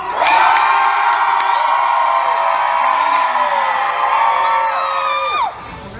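A crowd of people, children among them, cheering and shouting loudly together for about five seconds before the noise cuts off abruptly.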